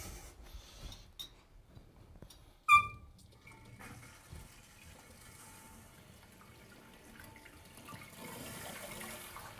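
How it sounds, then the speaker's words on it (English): After a small clink, a steady soft hiss of water flows into a toilet tank, filling it and continuing quietly to the end. "turn the water on"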